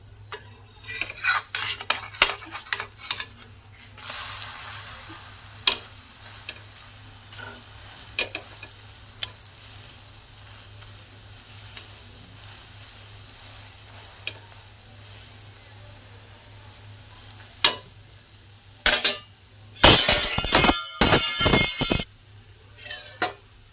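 Pancake batter fries in a pan for a healthy breakfast, with scattered clinks and scrapes of utensils over a low steady hum and loud bursts of sizzling near the end.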